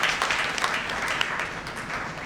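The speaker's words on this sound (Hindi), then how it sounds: "जोरदार तालियां" Applause from an audience at a network marketing training session, a continuous dense patter of many hands clapping through the whole short stretch, fairly close and even.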